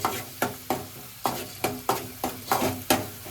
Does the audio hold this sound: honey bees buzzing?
no